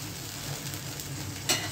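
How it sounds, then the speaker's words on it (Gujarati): Garlic tempering for a Gujarati vegetable dish crackles and sizzles in hot oil, a steady close fry with a sharper spatter burst near the end. "આનો વઘાર તમે લસણ નાખો ને તરત વઘારી નાખવાનું"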